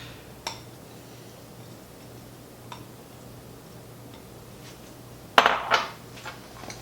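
Fruit salad with poppy seed dressing being stirred in a bowl gives a few sparse clinks of a utensil against the dish, mostly quiet between them, then a louder clatter near the end. No one speaks.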